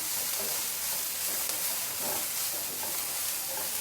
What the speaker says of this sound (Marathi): पालक आणि शेपू छान परतवून घ्यायचं